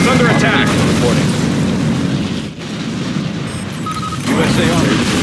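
Heavy booming explosions from Mammoth tank cannon fire in the strategy game Command & Conquer Generals Zero Hour, a dense continuous roar with a brief dip midway, loud and close, with game voice lines mixed in.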